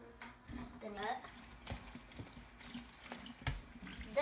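Tap water runs into a sink while vegetables for salsa verde, including onion, are rinsed, a steady splashing wash with clattering handling noises and a voice speaking over it.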